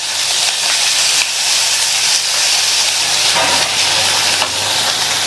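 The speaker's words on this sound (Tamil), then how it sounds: "இந்த தக்காளியையும் 1 நிமிஷம் போல வதக்கி விட்டுக்கங்க" Chopped tomatoes and mint leaves sauté in an oiled pan for a South Indian kurma. They give a steady, close sizzling hiss that barely changes over several seconds.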